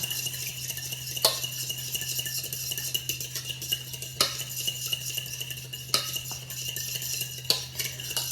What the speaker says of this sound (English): I just take a fork or a spoon, whatever you have, and mix it around